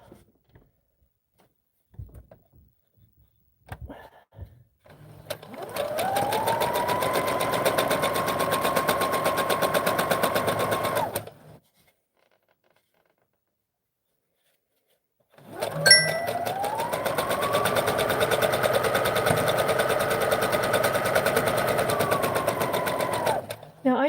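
A Brother XR7700 computerized sewing machine stitching: two sustained runs of rapid, even mechanical whirring, each about six seconds long, separated by a few seconds of silence. The sound is close and steady.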